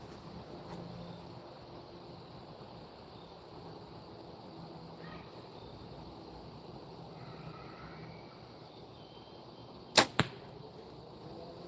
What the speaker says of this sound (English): I shot that whole 3-shot end at the same dot, just hoping I didn't smack arrows